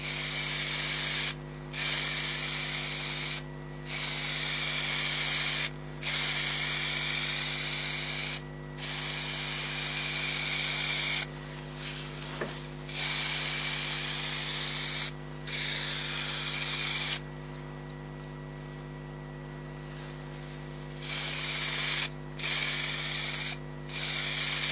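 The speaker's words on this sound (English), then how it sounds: "I think I'll finish this off with a melamine gloss lacquer." Melamine gloss lacquer sprayed onto a crackle-glaze finish: long, loud bursts of steady aerosol hiss separated by short pauses, with a constant low hum underneath and no talk.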